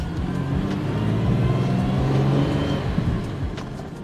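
A 1962 Jaguar MKII 3.8-litre six-cylinder saloon with a five-speed Getrag manual gearbox, engine pulled to high revs, a rising then settling drone close by, loud and continuous with no talk.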